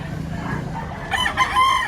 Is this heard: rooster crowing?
yes